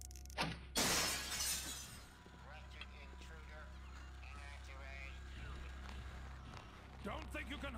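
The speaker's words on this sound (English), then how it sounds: "Windows break all the fucking time, guys" A glass window shatters in the stealth game Thief 2 inside a city bank: a loud crash and spray of breaking glass near the start, then quieter game ambience with a voice speaking over it.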